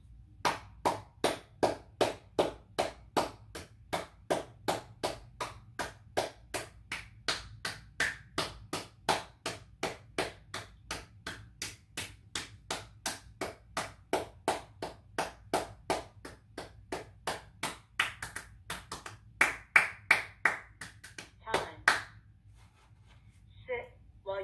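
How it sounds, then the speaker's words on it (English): Hand claps ring out one at a time in a steady, even rhythm during a relaxation exercise session, about forty crisp claps over twenty seconds, each close and distinct against a quiet background. "Sit while you clap your hands for 20 seconds."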